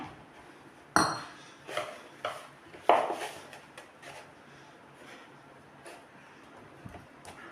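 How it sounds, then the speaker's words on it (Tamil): Onion samosa dough worked by hand in a bowl as water is added bit by bit, with a few knocks and clinks against the bowl early on, then soft, quiet squishing and shuffling close by. "இப்போ கொஞ்சம் கொஞ்சமாக தண்ணி சேர்த்துங்க, நல்லா மிக்ஸ் பண்ணிடுங்க"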